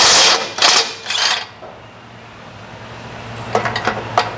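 Budget impact wrench hammering at rusty exhaust bolts on a Chevy truck, lubricated beforehand: three loud rattling bursts up front, a quiet pause, then several shorter chattering bursts near the end.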